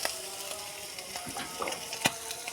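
Raw mango pieces coated in turmeric, chilli, coriander and cumin powder and salt fry quietly in a pan, giving a low sizzle with soft stirring clicks and one sharper scrape near the end.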